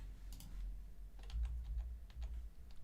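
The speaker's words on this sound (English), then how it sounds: "Right, my keyboard's not working." Quick taps on a computer keyboard come in short, uneven bursts, fairly close but soft, over a low steady hum.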